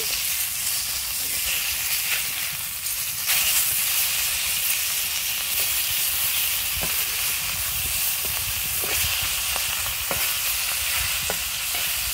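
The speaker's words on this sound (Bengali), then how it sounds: "মাছের এক পিঠ ভাজা হয়ে গেছে, আমি এখন আরেক পিঠ উল্টে দেবো।" Rohu fish fries in a wok with a continuous hissing sizzle, broken by scattered light scrapes and taps as the pieces are flipped, with no voices.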